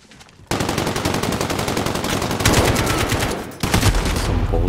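Rapid automatic gunfire in the video game Call of Duty Modern Warfare during a Hardpoint match, loud continuous bursts with a brief pause before firing resumes heavily.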